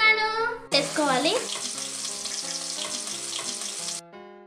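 Onion, green chili and carrot fry in a pan for a noodle dish, a broad sizzling crackle running for a few seconds beneath louder tonal background music.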